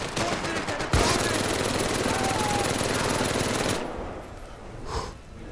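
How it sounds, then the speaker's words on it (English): A mounted machine gun in Medal of Honor VR, set in a World War II aerial battle, rattles in one long, steady, loud burst under engine drone, then cuts out, leaving the aircraft rumble and a single distant thump. "I'm gonna get on the MG"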